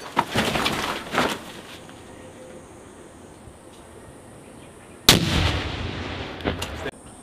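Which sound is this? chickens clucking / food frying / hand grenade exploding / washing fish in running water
hand grenade exploding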